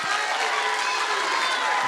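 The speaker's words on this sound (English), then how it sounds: "Round of applause." Audience applause at a school assembly during an Indigenous hoop dance performance, a dense steady clatter of clapping from a crowd lasting about two seconds, fairly loud and continuous.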